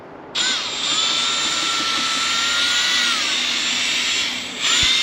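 Power drill with a mixing paddle whirring steadily while stirring epoxy for a garage floor coating, a loud continuous whine running nearly five seconds with a brief dip and restart near the end.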